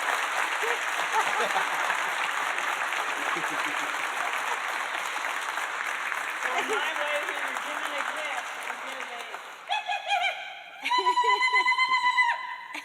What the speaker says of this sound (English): give a round of applause and acknowledge Lori